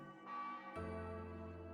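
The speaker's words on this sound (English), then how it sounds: "The eerie doorbell that reminds me of my imprisonment here." An eerie bell in The Colorful World video game sounds a single loud, ringing strike partway through, its tone sustaining and slowly decaying over a soft sustained tone beforehand.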